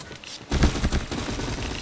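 Gunfire in the online shooter Point Blank erupts as a dense, loud, rapid volley that continues without a break after a brief quieter moment.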